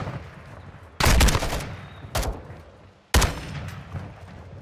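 Three loud, sharp gunshots ring out from a sniper rifle set to single-shot fire in a video game sniper mission. Each is spaced about a second apart, the first with a longer ringing tail.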